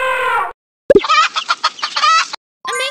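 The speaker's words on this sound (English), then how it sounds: "Hen." A hen clucks in two close bursts separated by a brief silence, with a long drawn call first and then a run of choppy, rapid clucks.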